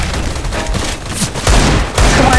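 Several bursts of gunfire in CS:GO, rapid shots crackling over dense, loud game noise, with heavier volleys near the middle and end of the stretch.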